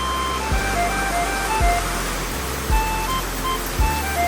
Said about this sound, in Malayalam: നല്ല മഴ കേട്ടോ.